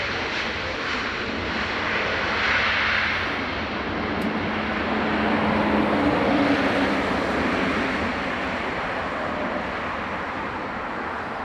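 Airbus A330neo airliner arriving over Dublin Airport toward the north runway, a loud, steady broadband jet roar with low engine hum that swells slightly mid-pass, heard from fairly near throughout.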